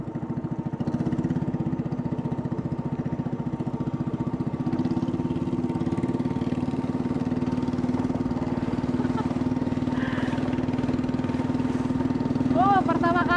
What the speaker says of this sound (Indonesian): perahu dengan motor seperti ini disebut ketinting.